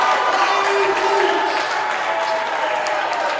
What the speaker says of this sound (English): As Riley Beach, as he's coming off the court, he's getting his round of applause